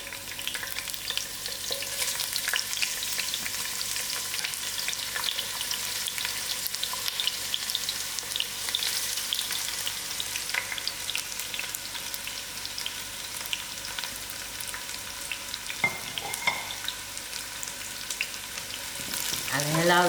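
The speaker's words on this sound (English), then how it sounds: "Put in my onions to fry." Sliced onions frying in half a cup of hot oil for a hot, dry venison curry, a steady close sizzle with occasional stirring scrapes running throughout.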